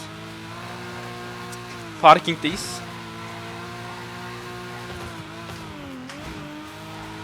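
A car engine droning at steady revs in a free drift video game set in a parking lot, with a brief sharp burst of tire noise near the middle and the pitch wavering later while two people talk over it.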